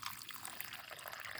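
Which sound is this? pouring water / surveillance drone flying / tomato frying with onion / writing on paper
pouring water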